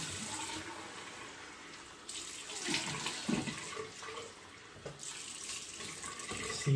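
Hot water runs from a bathroom tap in a steady, close hiss and splash, shifting slightly as hands move through the stream, with no talking over it.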